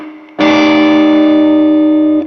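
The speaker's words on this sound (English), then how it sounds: "Reverb" A single loud electric guitar chord through a Supro 1970RK Robert Keeley Custom amp's reverb effect is struck and rings out, thick and sustained for about two seconds before cutting off.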